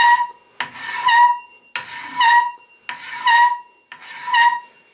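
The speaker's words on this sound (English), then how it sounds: "it can be finished off with a finer file," A fine single-cut file rasps across metal in five even strokes, each a bright scraping pass separated by short pauses, close and clear with no talk.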